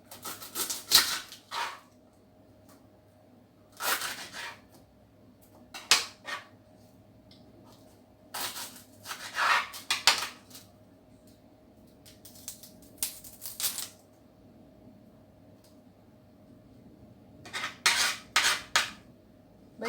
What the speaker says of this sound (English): now I'm going to cut a little piece of onion